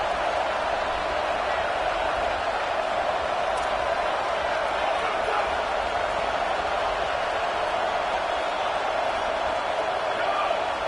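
A steady, roaring stadium crowd in the NCAA football video game, with a road game at Texas against Georgia. It forms a constant wash of noise that never lets up, and no distinct voice stands out.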